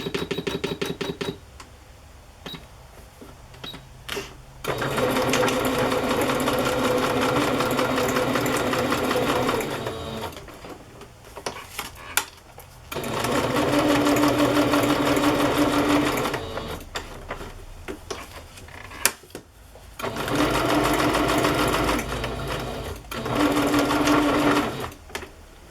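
Sewing machine running a straight stitch through folded cardstock, heard in three long steady motor bursts separated by pauses with small handling clicks, fairly close and loud.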